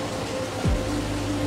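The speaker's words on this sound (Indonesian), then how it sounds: "Hujan ni rahmat Allah." Rain falls in a steady, even hiss that fills the whole stretch, with a brief low rumbling swell near the middle and no voices.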